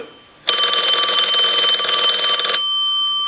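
A loud, rapid clanging telephone bell starts suddenly and rings steadily for about two seconds before cutting off.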